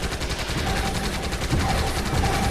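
Rapid automatic gunfire in the shooter game Elite Forces, a loud, dense stream of close shots rattling without pause for the whole stretch.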